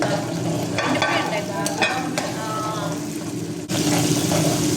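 Tomatoes with fresh ginger-garlic paste frying in oil in a pan for gongura chicken, a steady loud sizzle with stirring scrapes throughout, close and without talk, cutting off briefly near the end.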